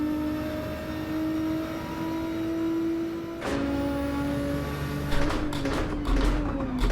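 Race cars in Gran Turismo 7, played in VR multiplayer with a Porsche closing in from behind, give a sustained engine drone that shifts pitch as gears change, followed by a burst of louder mechanical clatter near the end.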